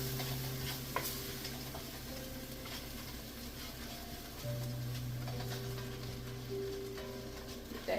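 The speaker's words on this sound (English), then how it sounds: "Get that mixed in with those veggies" A spoon stirs flour into vegetables in a pot for chickpeas and dumplings, a steady soft scraping over a low sizzle, close and even throughout, with no voices.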